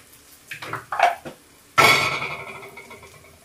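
A metal spoon clatters against a pan while stirring bitter gourd coconut fry with curry leaves. A few light scrapes and taps come first, then one sharp clang that rings out and fades.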